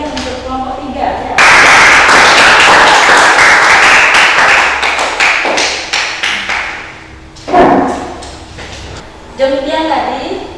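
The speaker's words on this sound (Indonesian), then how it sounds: "Beri tepuk tangan yang meriah untuk kelompok 3 ya" Students in a classroom give a lively round of clapping for a presenting group, a dense burst of claps that swells and fades, followed by a couple of shorter flurries, with voices among it.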